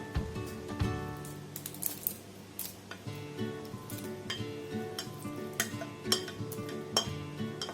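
Chicken pieces go into simmering butter chicken gravy in a pan and are stirred. A steady close sizzle and bubbling carries throughout, broken by repeated scrapes and clinks of the spoon against the pan.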